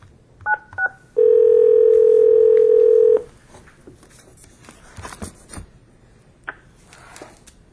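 A landline telephone dials a call: two short DTMF keypad tones come first, then a steady dial tone holds for about two seconds. Quieter room noise and faint shuffling follow.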